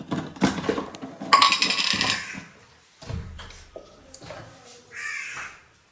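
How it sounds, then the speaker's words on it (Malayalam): Crows caw repeatedly in a home kitchen yard, loud bursts early on and fainter calls later, mixed with household clatter and some voices. "അവിടെ കാക്കള നിക്കണം അതൊക്കെ പെറുക്കാന്"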